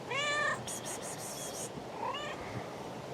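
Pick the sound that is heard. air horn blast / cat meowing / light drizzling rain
cat meowing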